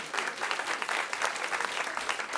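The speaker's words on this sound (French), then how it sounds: "Je sais pas ce que vous applaudissez, d'accord?" A comedy club audience applauds in a steady, dense burst of clapping that fills the room, fairly loud and close, with no speech over it.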